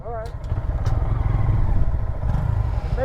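Honda Grom motorcycle cruising through city streets, its small engine droning steadily with wind rumble throughout while people talk over it.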